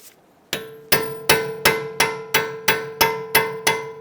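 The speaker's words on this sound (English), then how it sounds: "use a punch. You want to go into this little notch right here and open up this collapsed part of our spindle nut" Steady hammer blows drive a metal punch into the notch of a collapsed spindle nut on a 2009-2015 Honda Pilot front axle, nine sharp ringing metallic strikes at an even pace, close and loud with no talking.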